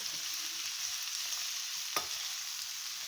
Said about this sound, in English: I'm just quickly stir frying it a couple minutes